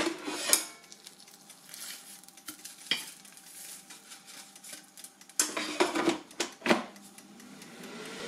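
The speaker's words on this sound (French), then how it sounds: "on va retourner la viande" Meat being turned over inside an air fryer basket, several sharp scraping and clattering knocks of utensils against metal amid faint sizzling, close and intermittent.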